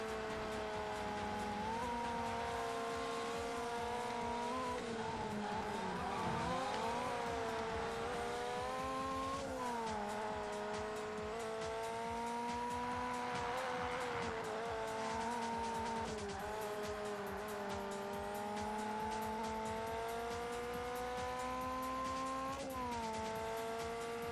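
A race car in the video game Ford Racing 2 drives hard for a sustained stretch, its engine note rising and falling through gear changes, with tire squeal and skidding in corners and no talk over it.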